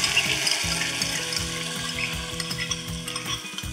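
A mixture is poured into hot tempering of chilli and garlic thecha with coriander in a pan, giving a steady close sizzle and bubbling with stirring scrapes and no talking.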